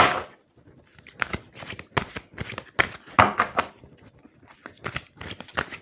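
Tarot cards are shuffled by hand in a run of quick, crisp riffling bursts, close and fairly soft, with short pauses between the flurries.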